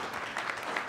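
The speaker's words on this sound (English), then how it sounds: "Yes, some applause is appropriate here." A brief, quiet patter of audience clapping at a presentation, faint and short-lived.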